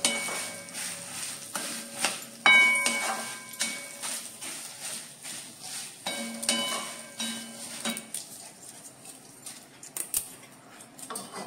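Ingredients sauté in hot oil with a soft sizzle, punctuated by clinks and scrapes of a utensil against the pan, quiet and close, with occasional louder stirring bursts.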